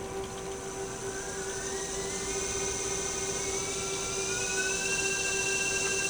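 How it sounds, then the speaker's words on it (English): Brushless motors on a long range drone build spinning up at low throttle on the bench, a steady close whine with tones that rise gradually in pitch and grow slightly louder. "Let's spin motors up a bit."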